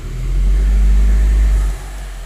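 A 2011 Audi A3 2.0T with a cylinder 3 misfire roars loudly and close as it revs under brake torque, holding a deep, heavy rumble before the revs drop back.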